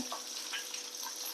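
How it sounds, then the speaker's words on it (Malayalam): Dried chilies frying in coconut oil for a coconut chammanthi, a steady close hiss of sizzling with faint stirring scrapes throughout, no voices. "നമുക്ക് ഈ മുളകൊന്ന് വറുത്തെടുക്കുക"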